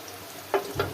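Potato slices frying in hot oil in a home kitchen give a steady low sizzle, broken by two short bursts of louder crackling spatter, with no talking.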